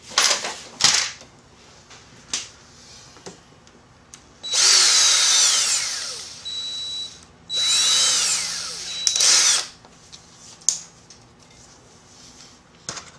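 A power drill bores holes in an Arcade1Up arcade cabinet panel, with two sustained whirring bursts a couple of seconds each, between scattered clicks and handling knocks, close and loud.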